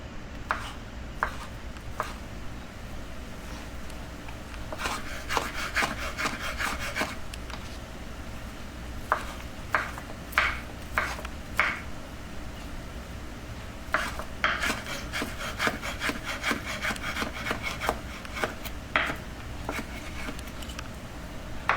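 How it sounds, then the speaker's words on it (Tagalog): A knife slices chicken liver and chicken breast on a cutting board, sparse clusters of scraping, tapping cuts up close, interrupted by brief pauses. "nahiwa na po natin ang ating liver at ang ating breast"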